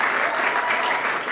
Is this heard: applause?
yes